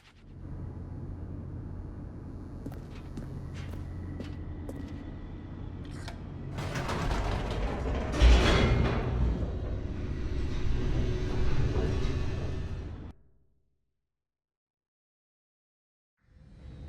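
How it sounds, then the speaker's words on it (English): Elevator in The Stanley Parable descending, a low mechanical rumble that builds into a rushing, rattling roar with a thud midway, then cuts to silence. "The elevator raced downward, plummeting towards an unknown fate."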